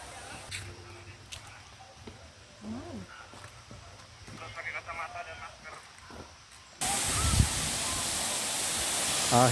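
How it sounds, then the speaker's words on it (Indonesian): Curug Jaksa waterfall at Taman Safari Indonesia, heard as a steady broadband rush of falling water that surges in loudly partway through, after quieter ambience with faint voices nearby. "Air terjun Curug Jaksa, Taman Safari, Waterfall."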